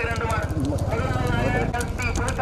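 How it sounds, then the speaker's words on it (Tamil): Hooves of racing bullocks pound rhythmically during a small-bullock cart race at Thirupunavasal, a fast drumming gallop heard under continuous loud commentary. "தனியா 2 மாடு தனியா வந்துகிட்டு இருக்கு"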